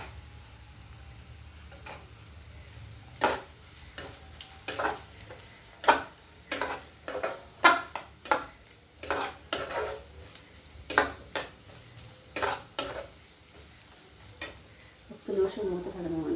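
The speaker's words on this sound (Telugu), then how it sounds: "ఇప్పుడు ఈ లావుగా తరిగిన ఉల్లిపాయ ముక్కలు వేసేస్తానండి" Thickly chopped onion pieces fry in a pan for an okra and potato fry, with a soft sizzle under a steady run of loud spoon clanks against the metal as they are stirred.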